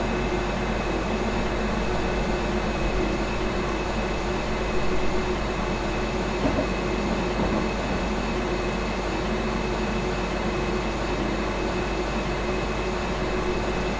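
A Desiro ML electric multiple unit (class 460) coasts along in Train Simulator 2016, with a steady, continuous rolling rumble and a faint tonal hum holding level throughout, no voices present.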